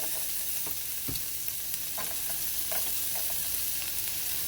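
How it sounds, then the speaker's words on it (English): Onions fry in melted butter and oil, giving a dense continuous sizzle with occasional scraping stir sounds, close and steady without any voices. "Once your butter's melted, put the onions in"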